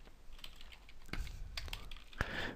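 Irregular clicks and taps of someone typing code on a computer keyboard, close and fairly quiet, with small bursts of keystrokes and brief pauses between them.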